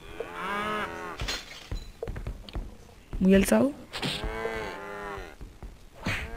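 A cow in the video game Survivalcraft gives several low, drawn-out moos, repeated throughout, while someone talks over them and brief clicks of game action break in.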